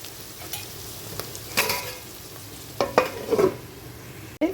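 Onions frying in a pan for a chicken fry, a low steady sizzle broken by a few sharp scrapes and clinks of a spoon stirring, close and moderately quiet.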